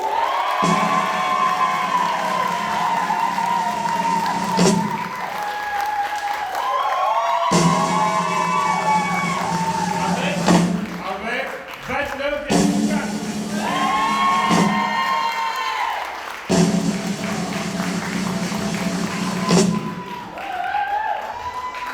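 A slam competition audience at Centre Nelson Mandela cheers and applauds the winner in long waves of crowd noise with shouts and claps, broken by short gaps, loud and close throughout.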